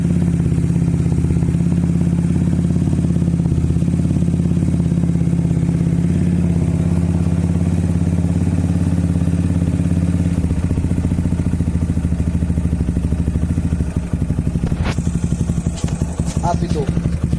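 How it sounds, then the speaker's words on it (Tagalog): A motorcycle fitted with a new Apido muffler for a Rider J Pro idles loudly nearby with a steady low throb, then blips briefly near the end, with a voice talking over it. "Ito na po yung tunog ng ating muffler."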